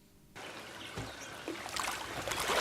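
River water streams and trickles steadily nearby, a soft wash that grows a little louder and splashier toward the end, with no talking.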